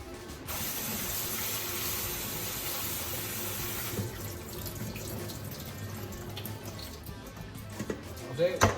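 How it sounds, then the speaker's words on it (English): Hot noodle cooking water poured off into a sink, a steady rushing splash for several seconds that thins into lighter trickles and clatters of a pot or strainer toward the end. "Now I'm going to drain that water."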